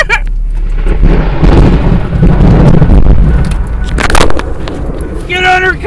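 Thunder in a lightning storm rolls as loud, heavy rumbling with sharp cracking bursts, running under excited people talking.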